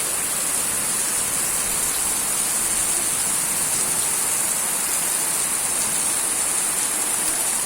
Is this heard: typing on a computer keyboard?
no